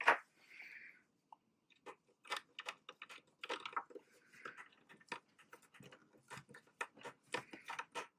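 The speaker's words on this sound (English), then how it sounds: "So all we still have to do is get these screws in." A screwdriver drives screws into a Synology DS215j NAS while Seagate IronWolf 4TB drives are being fitted, giving quiet, close, irregular ratcheting clicks in short bursts with no talking.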